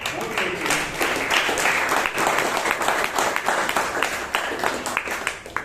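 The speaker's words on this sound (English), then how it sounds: "let's give a round of applause" Members at a Bangalore Toastmasters club meeting give a round of applause, a lively stretch of crowd clapping with distinct claps pulsing through, moderately loud and close in a room.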